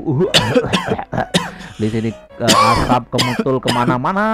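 Several people cough and clear their throats amid smoke after a sudden explosion in a great hall, with harsh bursts mixed among close, overlapping speech.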